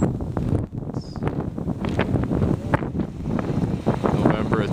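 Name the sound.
wind blowing outdoors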